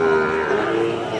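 A Sahiwal cow moos at a busy cattle market in a long, steady, fairly loud bellow that carries through the whole moment, with market noise faintly beneath it.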